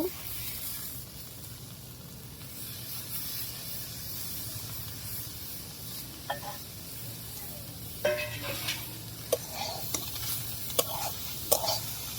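Cauliflower bhaji with coriander leaves fries in a pan under a soft, steady sizzle and hiss, with scattered scraping stir strokes growing more frequent toward the end.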